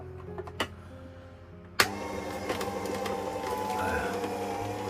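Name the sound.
electric juicer juicing frozen fruit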